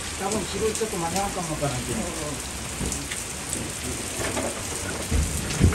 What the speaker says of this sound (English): also a rainy day